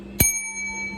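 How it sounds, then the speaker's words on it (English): A single sharp ding from a hotel front desk bell, struck once and left ringing with a bright, lingering metallic tone that slowly fades. "Gotta ring this damn bell again."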